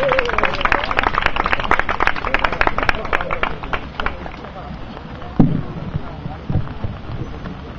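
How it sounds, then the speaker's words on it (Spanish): Audience clapping at an award ceremony in Donostia, dense and sustained at first, then thinning and fading with a few scattered claps toward the end. "os agradecería un aplauso"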